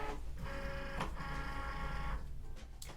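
A Cricut cutting machine draws in its mat with a steady motorized whir and rolling mechanical hum, close up, ending with a couple of sharp clicks as the loading stops.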